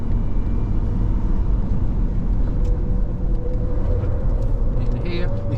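A Ford Ranger at full throttle on a race circuit, its engine a steady loud rumble with road and wind roar throughout, heard from inside the cabin.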